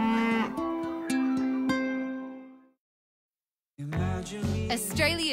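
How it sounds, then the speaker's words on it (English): Free-grazing dairy cows moo loudly and close by in a long drawn-out low call, followed by a brief silence and then another burst of mooing and farm sound. "great milk comes from cows that graze free"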